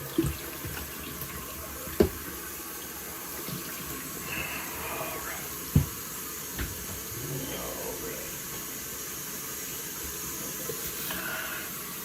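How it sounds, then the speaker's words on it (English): Tap water running into a sink while shaving soap is rinsed out of a shaving bowl, a steady close hiss of flowing water with occasional knocks of the bowl. "Now clean the excess shaving soap out of my bowl."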